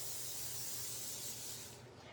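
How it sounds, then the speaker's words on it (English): Aerosol spray can hissing steadily onto foam clay for a primitive sunflower craft, a continuous close broadband spray that tapers off near the end, with no talking. "Okay, I'm going to spray"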